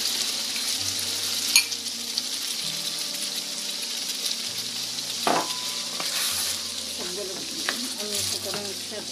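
Potatoes sizzling loudly in a pan of frying mixed vegetables with chicken liver and wings, a steady close crackle with a couple of sharper knocks of a stirring spoon and a faint background hum.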